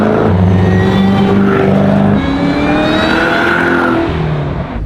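A car engine revs hard and accelerates close by, its rising harmonic whine climbing in pitch across several seconds at loud, sustained volume.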